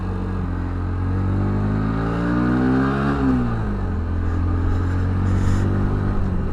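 A Bajaj Pulsar NS 125 motorcycle in first gear pulls away with a loud, close engine note whose pitch climbs steadily, dips briefly at a shift point, then holds a droning hum.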